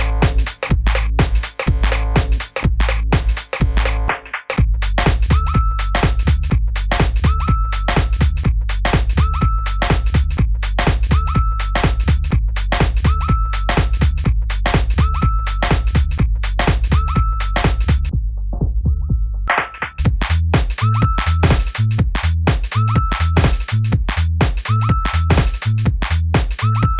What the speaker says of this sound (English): all of the added sounds are from synth engines within the OP-1